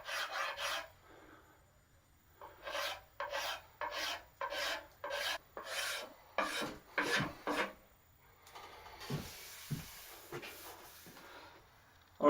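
Wooden axe handle being scraped down in a series of about ten rhythmic, rasping strokes, close and distinct, followed by softer, more scattered scraping.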